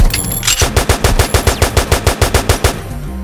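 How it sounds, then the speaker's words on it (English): An AR-15 rifle in the video game Liberty Stories fires a loud, rapid, even burst of about fourteen shots, close and alone, with no talking. "Give me AR-15 rifle. AR-15 rifle. I'm a demon with that gun."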